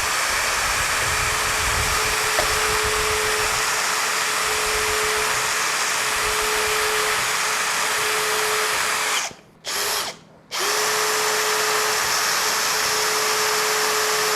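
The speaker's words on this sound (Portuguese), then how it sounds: "eu vou precisar usar uma parafusadeira ou furadeira para poder colocar essa broca" A handheld drill or screwdriver with a kit countersink bit whines steadily while countersinking a screw hole for a Rivertools compact router table assembly, running loud and close, with two brief pauses near the end before it resumes.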